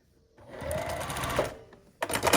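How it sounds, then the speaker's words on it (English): A sewing machine stitches a fabric pocket piece onto the side of a zipper first aid pouch, its steady close whir running for about a second before a short pause and a brief second burst. "we're going to take this piece and sew it to each side unit."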